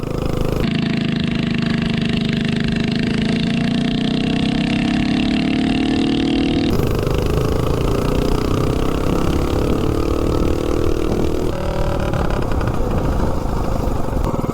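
A mini bike engine fitted with a 252 cam revs loudly and close, rising in pitch, dropping back, then climbing again in a steady rough roar without talk.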